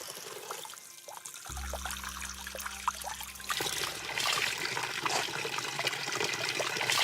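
Carbonated spring water at the Orezza source bubbles and trickles steadily, with a low hum starting about a second in and fading midway, then the fizzing rush grows louder and closer, with no voices.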